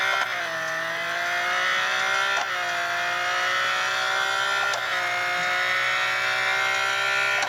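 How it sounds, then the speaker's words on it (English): A race car at Le Mans brakes late and skids, its engine droning loudly and continuously with brief downshift blips and falling pitch, tyres scrubbing beneath, no talk over it. "Straightened out, braking late. Again, skidding and not able to keep the line you want."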